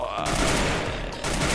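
Rapid gunfire from a SCAR-L rifle and a shotgun in a mobile battle game, a dense, loud burst of overlapping shots crackling close up with a short break partway through.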